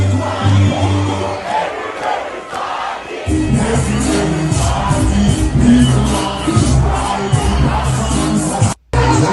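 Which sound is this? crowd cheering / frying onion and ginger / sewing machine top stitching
crowd cheering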